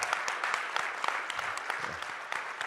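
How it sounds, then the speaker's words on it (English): An audience at a SXSW 2022 cannabis panel applauds the panelists, a dense burst of clapping from a sizable crowd at moderate distance, steady throughout the short stretch. "Please give our panelists a warm round of applause."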